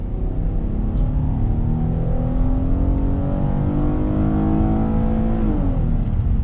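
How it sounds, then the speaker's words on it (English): A 2019 Ford Explorer XLT with the V6 engine accelerates hard from inside the cabin, its loud steady engine drone rising in pitch and dipping briefly near a gear change before climbing again. "we're gonna start off in the 2019 Ford Explorer XLT. This one has the V6 on throttle."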